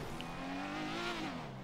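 Engine of a car in a street-racing video game revving steadily, harmonics rising and falling in a sustained growl, loud and close with no talk over it.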